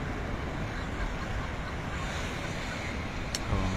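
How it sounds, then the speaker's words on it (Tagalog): Steady rush of ocean waves breaking at the shore of a Bermuda park, with some wind noise on the microphone and a brief clack near the end. "Yun, no? Yung mga alon, no?"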